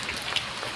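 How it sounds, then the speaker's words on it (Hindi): Heavy rain pours down in a dense, even hiss with scattered drop spatters, steady and close for under a second. "रउरा के देखा रहल बनी झमाझम बारिश"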